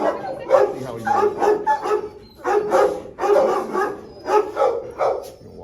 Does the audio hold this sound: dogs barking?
yes